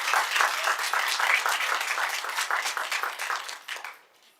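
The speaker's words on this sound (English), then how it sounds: "Let's give everybody another round of applause." A room full of people at a regular board meeting claps in a brisk round of applause, individual claps audible in the wash before it quickly fades out near the end.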